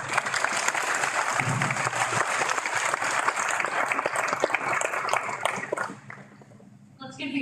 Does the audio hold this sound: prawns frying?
no